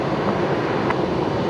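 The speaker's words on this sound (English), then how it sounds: "Oh, that's an A220. Listen to that." An Airbus A220 airliner passes near Brisbane Airport with a broad, steady roar of jet noise. It is fairly loud and even across the whole moment, with no voices.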